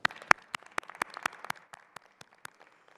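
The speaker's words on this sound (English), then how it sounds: "let's provide a round of applause for all of today's award recipients" A small scattered group claps for award recipients at a Founders' Day ceremony, a few sharp claps tapering off over a few seconds, no voices.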